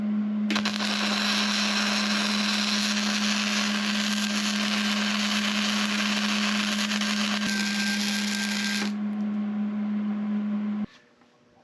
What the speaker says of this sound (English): I got the weld done all the way across the top.